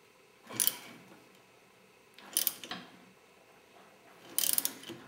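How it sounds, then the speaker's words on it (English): A puller works a part off a Yamaha YZF600 engine during a full teardown, giving three separate bursts of metallic clicking and ratcheting. The bursts are spaced a couple of seconds apart and sound close against a quiet background. "now I'm going to pull it off once I get set up with my puller"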